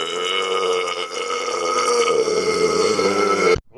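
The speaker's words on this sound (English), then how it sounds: "When a girl burps." A girl lets out one drawn-out, high-pitched burp, close and loud, lasting over three seconds before an abrupt stop.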